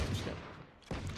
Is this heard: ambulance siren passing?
no